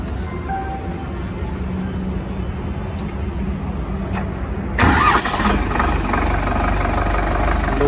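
A new Indofarm 3055 tractor's engine cranks under a steady low rumble, then catches about halfway through and settles into a loud, rough idle close by.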